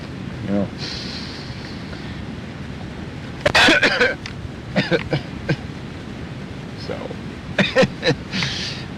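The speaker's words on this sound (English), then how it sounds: "choking on a cough drop" A few short, harsh coughing bursts from someone choking on a cough drop, close and sputtering, separated by brief pauses, with faint background noise throughout.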